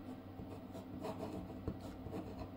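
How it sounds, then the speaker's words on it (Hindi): Pen scratching across paper while writing a name, soft close rubbing strokes in short bursts, quiet and alone. "मैं ये एक पेपर लेती हूँ एंड इस पर मैं उनका नाम लिख देती हूँ।"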